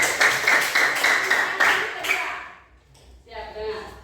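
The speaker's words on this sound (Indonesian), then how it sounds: "Kita tepuk tangan untuk teman kita dulu." In a Catholic school class, classmates clap in a brisk, fairly even rhythm for about two seconds. The clapping then fades, and a single voice begins speaking alone.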